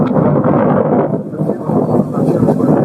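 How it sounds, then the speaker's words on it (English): Gusty wind buffets the microphone outdoors beside a bike, a loud, rough rumble that swells and eases continuously for a few seconds. "It's a windy day, so you'll get a lot of noise from the bike."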